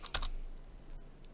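Quick keystrokes on a computer keyboard: a short, close burst of typing near the start, followed by a faint tap or two in a quiet room.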